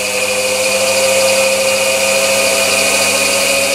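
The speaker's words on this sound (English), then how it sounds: "Then I start the lathe up and have it running at about 300 RPM." A Chinese mini lathe fitted with a 3-inch slitting saw spins at about 300 RPM, giving a loud, steady motor whine and hum that holds constant throughout, close by and without speech.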